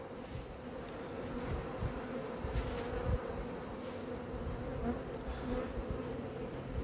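Close, steady buzzing of a honeybee swarm gathered on a tree, a dense even drone of many wings holding at one level throughout, with no voices.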